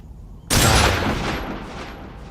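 A loud burst of gunfire from Metal Gear Solid 3 Snake Eater cuts in sharply after a brief quiet, then rolls on as dense sustained shooting that slowly eases off, with no talking.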